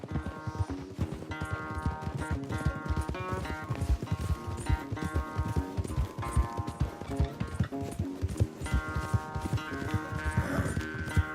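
Horse hooves gallop in a race in the video game Red Dead Redemption 2, a fast clip-clop rhythm running under loud, busy game music throughout.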